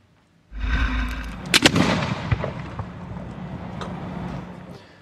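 Fireworks set off during a Cape Coral Fire Department safety demonstration burst with a sudden loud whoosh and a cluster of sharp crackling bangs, then a fizzing, popping tail that slowly fades.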